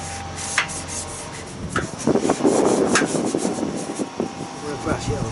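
A brush rubs paint protection onto a Harley-Davidson Superlow motorcycle: close, scratchy strokes in irregular bursts over a steady fan-like hum.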